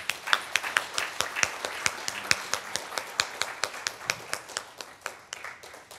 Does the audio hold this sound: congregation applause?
yes